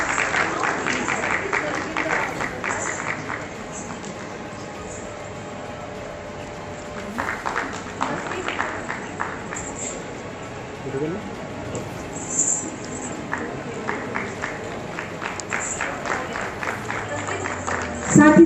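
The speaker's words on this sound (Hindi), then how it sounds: "आप सभी दर्शकों के लिए एक बार में जोरदार तालियाँ।" Audience applause at the Surdas festival in Vrindavan, a scattered, moderately loud clapping crowd that swells and fades in bursts over a steady murmur, with voices mixed in.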